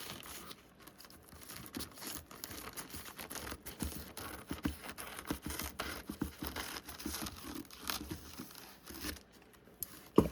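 Material for an Asian-style wall hanging is cut by hand at close range, giving soft irregular snips, scratches and crinkly rustles that come and go quietly over several seconds, with no talking.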